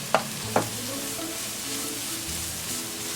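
Grated coconut being stirred into a sprouted green gram and fenugreek thoran in a pan, with two sharp spoon knocks near the start followed by a soft, steady sizzle and scraping stir.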